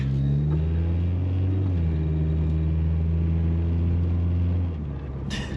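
A Mk2 Jetta idles through a $40 homemade exhaust, a steady low droning rumble with a deep throbbing hum close to the microphone, easing slightly toward the end, with no talking.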